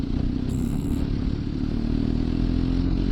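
A BMW R1250GS motorcycle engine lugging in sixth gear at about 1500 rpm, a low steady boxer drone with road and wind noise, close and constant throughout.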